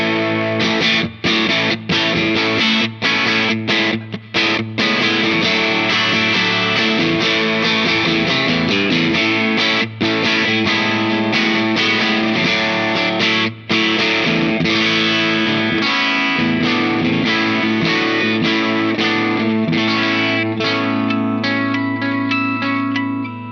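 Fender Aerodyne Special Telecaster on the bridge pickup played through a Space Sounds Meteor Distortion pedal, loud sustained distorted chords and riffs with sharp pick attacks and a thick, saturated tone throughout.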